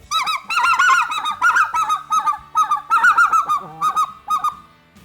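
A hunter blows a goose call imitating the yodel of specklebelly geese, a rapid, loud run of high, warbling two-note notes in quick bursts, close and alone.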